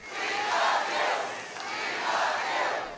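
A large crowd at a presidential campaign rally roars and cheers in a dense, sustained wall of voices that swells twice, loud and close, with no single speaker standing out.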